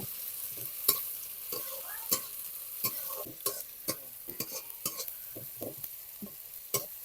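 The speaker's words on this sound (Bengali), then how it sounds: "টমেটোর কাঁচা গন্ধ না যাওয়া পর্যন্ত ভাজতে থাকতে হবে" Chopped onion and a medium tomato fry in a pan while a spatula stirs and scrapes in a repeated rhythm over a faint background sizzle, with no voices.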